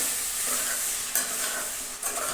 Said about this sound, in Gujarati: હવે આ રીતે આપણે તેને બરાબર હલાવી લેશું